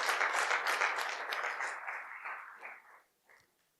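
An audience at an energy-tech pitch competition gives a standing ovation. The applause is dense and fairly loud at first, then thins and fades out over a few seconds, ending with a last scattered clap.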